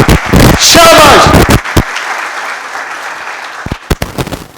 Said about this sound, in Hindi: ताली बजाएं एक दूसरे के लिए, शाबाश शाबाश।